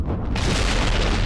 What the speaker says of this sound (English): But there was an explosion.